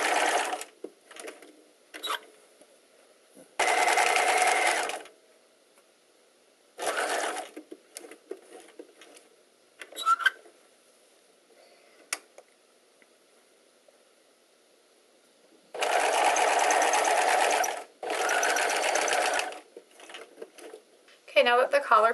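Sewing machine stitching a shirt collar from the fold up to the corner and across, in several bursts of steady whirring separated by pauses, with a voice speaking in the gaps.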